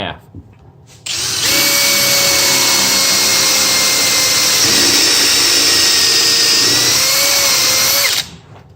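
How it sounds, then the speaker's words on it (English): A power drill whines steadily at high speed for several seconds, boring a dowel-pin hole into wood for a stair railing, close and loud, then cuts off abruptly. "Once you put the drill bit in, it'll be touching the wood."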